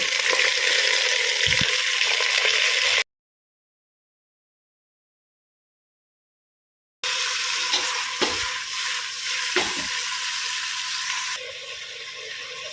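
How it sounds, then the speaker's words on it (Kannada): Green chillies fry in plenty of hot oil in a pan, a strong continuous sizzle with occasional stirring knocks, interrupted by a long silent stretch before the crackle returns. "ಇದನ್ನು ಎಣ್ಣೆಯಲ್ಲಿ ಹಾಗೆಯೇ ಬೇಯಲಿಕ್ಕೆ ಬಿಡುವ"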